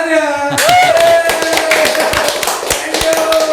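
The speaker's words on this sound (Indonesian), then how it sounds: "Mana tepuk tangannya?" Audience clapping at a waste-management podcast event in Tangerang, a dense patter of many hands after a sustained tone, steady and fairly loud for several seconds.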